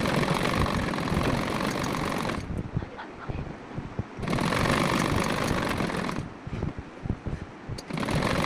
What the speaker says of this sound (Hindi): अब प्लास्टिक के ऊपर से सिलाई लगा देंगे।